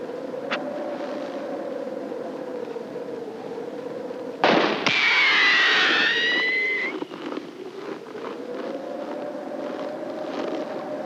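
A single sharp gunshot, fired to drive off a problem bear in the north, bursts out once at mid-distance over steady wind and a droning engine, its echo trailing briefly.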